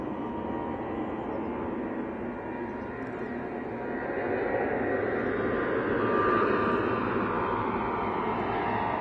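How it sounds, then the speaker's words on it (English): A Jet2 Boeing 737 at Manchester Airport gives off a steady jet engine roar that swells slightly midway, heard from a distance as a broad continuous rumble. "This going out though, Jet 2, 737 off to Barcelona."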